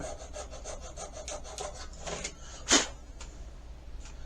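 Steady, fairly quiet rhythmic rasping of a hand file working the metal bolster of an old Atlas knife during refurbishment, with quick even strokes, a brief louder scrape near the end, and no talking.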